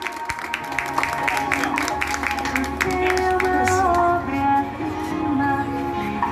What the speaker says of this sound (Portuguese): Uma salva de palmas, família!